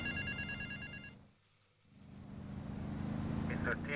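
A telephone rings in the GTA Vice City game, a repeated electronic trill that stops after about a second, followed by a drop to near-quiet and then a swelling engine-like drone.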